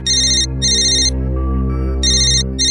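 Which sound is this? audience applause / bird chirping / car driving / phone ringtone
phone ringtone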